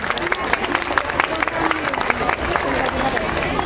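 An audience at a school annual day claps steadily, a dense patter of many hands mixed with crowd murmur, moderately loud and continuing throughout.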